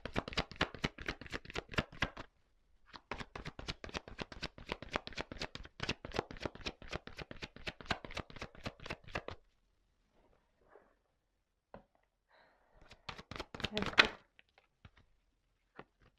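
A deck of tarot cards being shuffled by hand, rapid crisp riffling clicks in two long bursts, then quiet pauses and a short final flurry of card snaps, close and fairly quiet with no talk.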